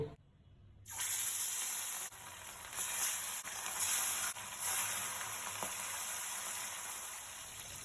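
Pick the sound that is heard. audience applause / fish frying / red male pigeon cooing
fish frying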